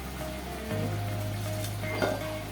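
Ground coriander hitting hot oil in a pan while cooking a homestyle chicken curry gives a steady, close frying sizzle that runs throughout, with a slight swell near the end and no talking.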